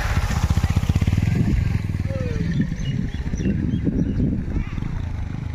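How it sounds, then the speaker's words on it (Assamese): A boat moving across floodwater at Dhamar Bil, with a steady rumbling motor chug up close and a continuous low drone, water swishing beneath as people talk nearby. "এইটো নাও চলি আছে"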